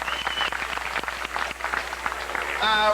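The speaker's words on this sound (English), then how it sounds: "Give them a big warm round of applause." Applause for a working group at a 2000 Tacoma arts event, scattered hand claps from a modest crowd, fairly close, with a brief musical tone entering at the end.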